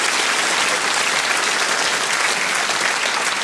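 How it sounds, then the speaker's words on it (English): An audience at Al Murray's Pub Landlord comedy show claps loudly and steadily, a dense, even wash of applause that fills the whole stretch with no pauses. "Give yourselves a round of applause."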